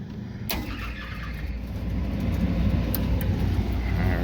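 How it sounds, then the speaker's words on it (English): A Trane rooftop HVAC unit's combustion motor starts up, a low rumble and whir building steadily in strength, with a couple of brief clicks near the start. "we got the combustion motor going"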